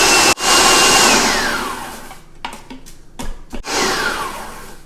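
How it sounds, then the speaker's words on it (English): A blender on its puree setting grinds basil pesto into a paste, whirring loud and steady before winding down, followed by short pulsed bursts and a final strong run. "I'm going to grind this up to a paste"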